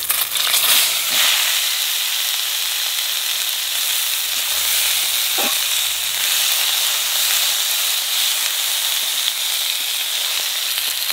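Boiled taro stems hit hot oil seasoned with black cumin, sending up a loud, continuous sizzle and hiss that stays steady throughout, with a faint clink near the middle.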